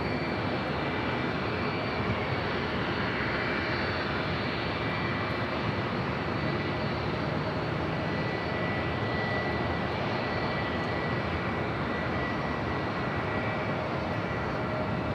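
An airliner powers up for takeoff from runway 24 left at LAX, a steady broad roar of jet engines heard from a distance without pause.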